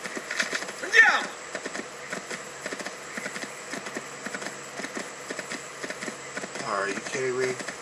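Steady clip-clop of horse hooves in Assassin's Creed II, a quick even rhythm at moderate distance, with brief game sounds layered over it.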